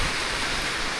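Rain falls in a rural countryside setting with a dense, steady hiss, even and continuous, with no voices heard.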